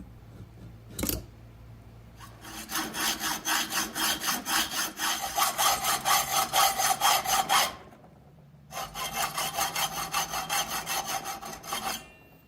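A saw cuts steadily through material in quick back-and-forth rasping strokes, pauses briefly, then resumes until the piece is cut through; close and loud.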